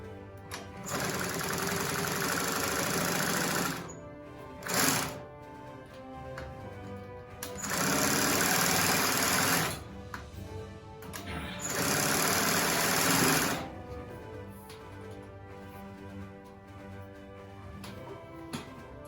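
A Fusion high post sewing machine with a wig attachment runs in several bursts of steady motorized whirring, stopping and starting between runs, close and fairly loud with no talking.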